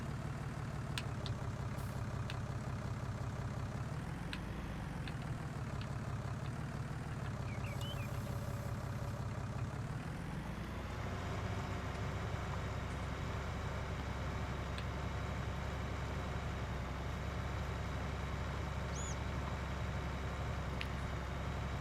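A tractor engine in Farming Simulator 19 idles and works steadily with a low, droning hum, its pitch dipping and rising briefly before settling into a constant rumble, close and continuous with no talk.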